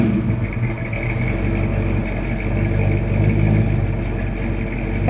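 A 1967 Ford Fairlane's engine runs steadily at idle, a continuous low rumble with no talking.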